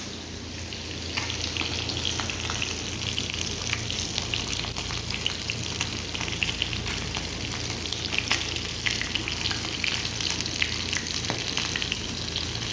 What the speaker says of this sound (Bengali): মাছ ভাজাটা এখন তো হয় নাই, 2 মিনিট লাগবো মাছ ভাজাটা।